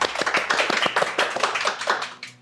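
An indoor audience at an Azure DevOps enterprise presentation claps to welcome a speaker, a brisk burst of hand claps that fades out over a couple of seconds.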